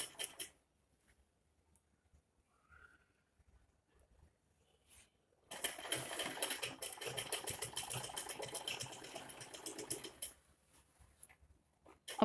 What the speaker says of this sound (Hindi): अब हम यहाँ से सिलाई लगाएंगे।